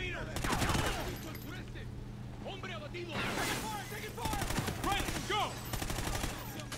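Gunfire in the Call of Duty: Ghosts campaign, with repeated bursts of automatic rifle shots cracking in clusters over a low steady hum, loud at the start, then again in rapid volleys near the end.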